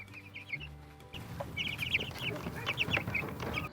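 Chickens raised for meat cluck on a grassy clover pasture, several birds making repeated short clucks and calls at moderate distance, with a soft outdoor background.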